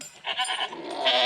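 A South African Boer goat on an Australian goat farm gives a short, nasal bleat, close and clear, lasting about a second.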